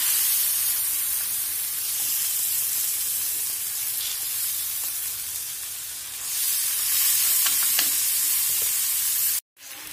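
Food browns in a tagine dish on a stovetop, giving a steady broadband sizzle that runs the whole time with a few faint stirring clicks, then cuts out abruptly near the end.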